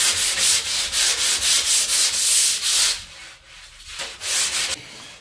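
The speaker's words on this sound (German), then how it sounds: "Jetzt wird das schön eben geschliffen." Rounded edges of an MDF coffee table being sanded by hand, a steady rhythmic rasp of back-and-forth strokes, close and loud, with a brief pause before the strokes resume.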